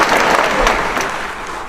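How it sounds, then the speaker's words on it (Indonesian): Brief burst of clapping from a crowd of PAN party cadres at a regional working meeting in West Java, dense and lively at first, then thinning and fading within a couple of seconds. "Terima kasih, tepuk tangan."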